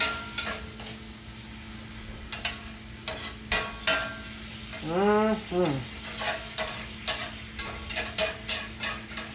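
Liquid hisses and sizzles in a hot pan while beef stroganoff is deglazed, with frequent sharp utensil scrapes and taps against the pan and a brief squeaky scrape in the middle, close and alone without talking.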